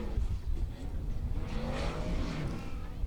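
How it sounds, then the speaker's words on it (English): A formula offroad car's engine roars on a hill climb course at the 2022 Icelandic Formula Offroad round, a sustained rough revving drone with shifting pitch, moderately distant and continuous. "Next up, we have Jón Reynir Andrisson driving Thunderbolt"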